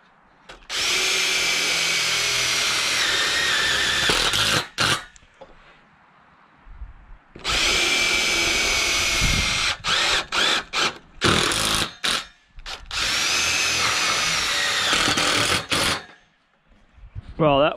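A power drill drives a screw into a 2x4 while clamping parts for a greenhouse build, with several loud whirring bursts separated by pauses and short stop-start pulses near the end.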